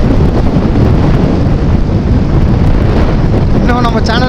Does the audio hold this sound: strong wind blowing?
yes